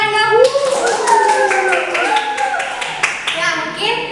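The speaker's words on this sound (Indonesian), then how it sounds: "kalian tepuk tangan dong" Students clap in a classroom, a brief patter of scattered handclaps running beneath a voice as she keeps speaking over them.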